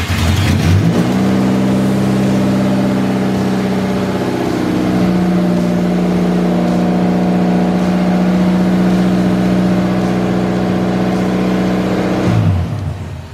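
A Toyota Corona endurance race car with a swapped 3S engine runs loud and close, starting abruptly, then revving and holding a steady, buzzing, rising-and-falling engine note for about twelve seconds before cutting off sharply.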